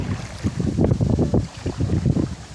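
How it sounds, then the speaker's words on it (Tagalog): Strong gusts of wind buffet the microphone in uneven bursts, a loud low rumble rising and falling without any talking. "Lakas ng hangin."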